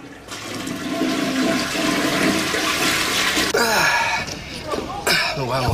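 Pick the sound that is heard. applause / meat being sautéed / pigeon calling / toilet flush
toilet flush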